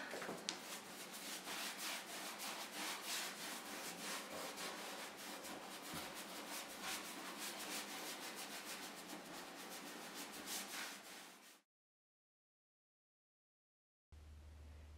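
A cloth wipes back Annie Sloan wax on a wooden china cabinet, giving a soft, continuous rubbing swish that is close but faint and lasts about eleven seconds before cutting to silence.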